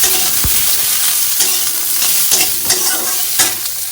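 Food fries with a loud, continuous sizzle in a pan while being stirred, with scattered sharper clinks and scrapes of the utensil against the metal, heard close with no talking.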